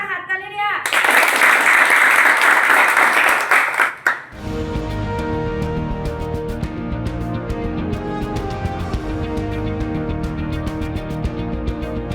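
School audience of children and staff bursts into loud, sustained applause for about three seconds, then the clapping drops away abruptly and gives way to steady background music.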